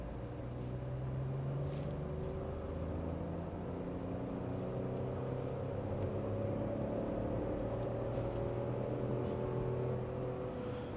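A Tata Curvv with the Hyperion petrol engine climbs a steep hill in second gear, its engine giving a steady, moderate drone heard from inside the cabin as the pitch slowly creeps upward throughout.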